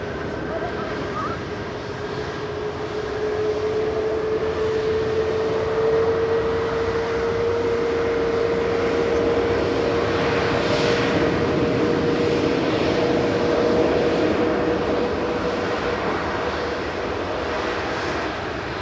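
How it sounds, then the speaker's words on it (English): A Jet2 Boeing 737-800 airliner departs Manchester Airport, its jet engines building to a sustained roar with a droning whine that holds steady and then slowly fades, heard from a distance under occasional talk. "JZBA departing to Innsbruck there with flight 939 for Jet 2. Central 737-800."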